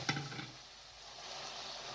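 Milk poured into caramelizing sugar in a pan for kheer: a soft, steady sizzle after a brief clatter of stirring at the start, quiet and continuous.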